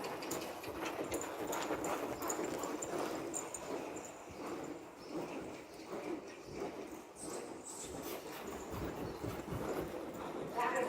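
Horse hooves on ground at a near-canter pace, steady rhythmic clip-clop of a working horse in training, moderately close, with a person talking over it.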